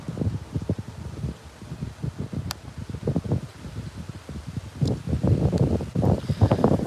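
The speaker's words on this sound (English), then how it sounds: "It is very windy here today." A strong wind gusts outdoors beside the Intracoastal Waterway, buffeting the microphone in uneven rumbling bursts that grow stronger toward the end.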